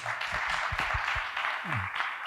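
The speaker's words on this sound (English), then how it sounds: "Can we have a round of applause for Mr. Pathak?" Applause from an audience closing a university session, a broad steady wash of clapping heard alone with a few low voices murmuring underneath.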